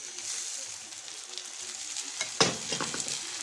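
Lentils tipped into onion frying in oil and ghee, a steady close sizzle that flares into a louder crackling burst as they hit the pan, then keeps frying.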